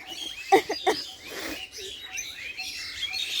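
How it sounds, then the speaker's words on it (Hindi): Birds chirp busily outdoors near bamboo, a few loud close calls early on over a constant twittering chorus that continues throughout. "यहाँ पे काफ़ी ज़्यादा चहचहाहट होती है।"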